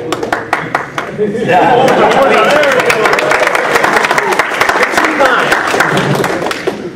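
Audience at a comic convention panel claps, starting with a few scattered hand claps then swelling into sustained, fairly loud applause with light chatter and chuckles underneath before tapering off.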